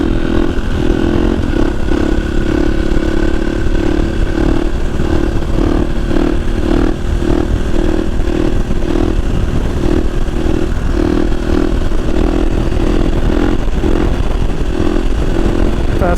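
Big-displacement motorcycle engine roaring and revving hard through a wheelie, loud and close, a steady rough drone with rapid pulsing throughout and no talk.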